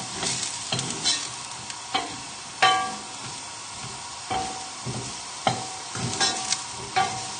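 Shallots and garlic sizzle gently in a frying pan for a chorizo and tomato chicken dish, a soft steady hiss broken by repeated scraping stirs and clinks of the utensil.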